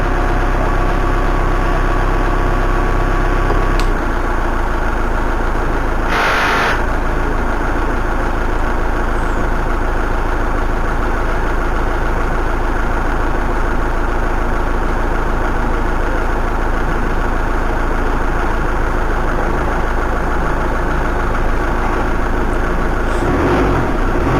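A car engine idles steadily after start-up, a continuous low rumble that holds for about twenty-four seconds with no voices over it.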